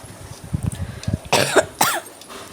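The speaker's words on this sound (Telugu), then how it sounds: "సారీ అండి, మధ్యలో కాఫ్ వస్తుంది వాయిస్ ఓవర్ ఇస్తుంటే" A person coughs twice in quick succession, close and loud, after softer low thumps from a kitchen where pesara vada (moong dal fritters) are being cooked.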